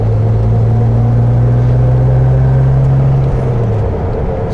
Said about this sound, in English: Has the great TR6 torque, engine sound.